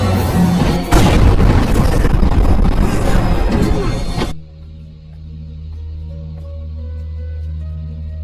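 Gunfight from the 2009 film Shinjuku Incident: about four seconds of loud, dense gunfire and booms end abruptly and give way to a low, quiet rumble.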